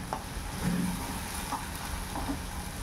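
Curry leaves dropped into hot oil with softened onion in a pan, giving a steady moderate sizzle and crackle with a few brief spits and pops, no talking.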